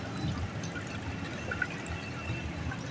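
Water pours steadily into a large cooking pot while a wedding meal is being prepared, a continuous soft rushing wash with faint splashes, fairly quiet and alone.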